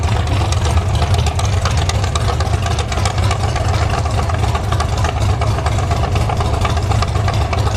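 A nitrous-fed second-generation Chevrolet Camaro drag car idles in the pits at a drag strip, a loud, steady, lumpy rumble close by with no speech over it.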